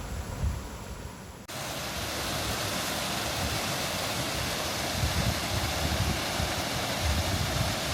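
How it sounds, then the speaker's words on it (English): A river flows out from a reservoir near the Mansfield viaducts, a steady rushing of water that cuts in abruptly and holds a constant, fairly loud wash with no talk. "There's the river coming from the reservoir."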